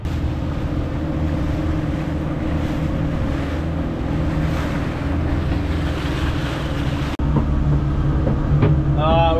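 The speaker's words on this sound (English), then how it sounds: "Just when the waves start getting good, we're leaving." Ocean waves and steady wind roar around a boat heading back to a main island, with a constant heavy wash of water and engine rumble, loud and close throughout, broken briefly near the end.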